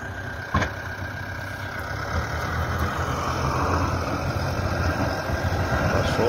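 A backhoe loader tractor's engine runs steadily throughout, a continuous low rumble with a faint brief knock near the start and no talking.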